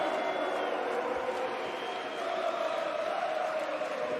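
Broad crowd noise fills a CS:GO StarLadder Major Berlin arena, a sustained wash of cheering and murmur at moderate level with no single voice standing out.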